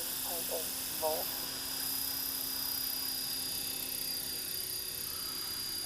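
A 450-size RC helicopter with a five-blade rotor head hums steadily at close range as it spins up, a constant high-pitched motor whine and whirring blades with brief speech over it.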